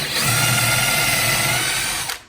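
A power drill fitted with a 3/16 bit bores a pilot hole into a wall stud for a wood screw, one steady high-pitched whine held for about two seconds and then cut off abruptly, loud and close with no talking.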